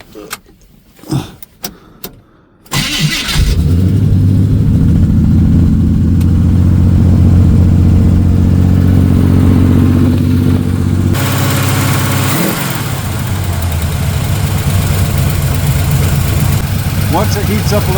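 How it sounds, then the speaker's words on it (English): A carbureted engine starts after a few clicks and knocks, then settles into a loud, steady idle held close by, with a brief rev dip partway through; a voice talks over it near the start. "Now it should fire and idle at like 1500 RPM or so."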